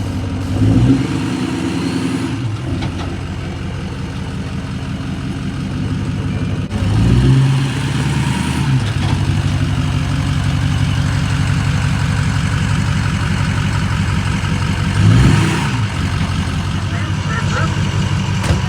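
A Ford 6.0 Powerstroke diesel pickup idles close by with a steady, rumbling clatter, dipping and swelling briefly a few times while people talk over it.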